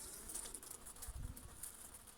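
Anatolian honey bees buzz in an open hive among brood and capped honey, a faint, steady high-pitched hum with some closer low passes.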